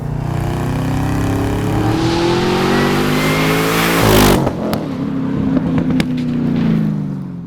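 A 580 hp Camaro ZL1 engine roars loudly and steadily, its pitch climbing as it revs hard, then cutting off abruptly into sputtering, popping bursts.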